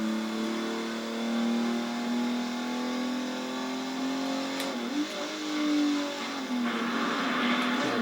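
An Alfa Romeo car engine in the racing video game Alfa Romeo Racing Italiano drones at a steady high pitch, easing off briefly mid-run before building again, loud and close with no talk over it.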